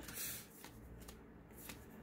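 Pokémon trading cards are shuffled together by hand while hidden fates tins are being opened, giving a quiet, steady rustle with soft flicks throughout. There is no talk over the sound.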